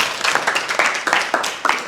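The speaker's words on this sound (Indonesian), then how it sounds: "tepuk tangan untuk Jul" Scattered hand claps from a small group of students in a classroom, short uneven bursts at moderate volume with no voices over them.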